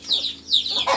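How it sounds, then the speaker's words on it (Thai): A chicken in a video game clucks in a few quick, loud, scratchy bursts, close and alone, with no talking over it. "ไก่อะครับน้องๆ"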